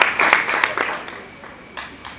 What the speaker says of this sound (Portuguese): Salve de palmas para o nosso orador